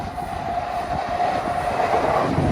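A local stopping passenger train passes at Morley, West Yorkshire, a steady close rumble with faint clickety-clack of wheels on rail, no voices.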